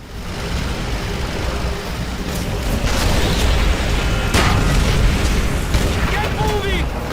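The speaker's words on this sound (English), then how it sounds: "The explosions, the fire." Heavy booming explosions and rumbling fire roll continuously under a dense wash of battle noise, with a sharp blast standing out midway, during a tank mission in the video game Call of Duty: World at War.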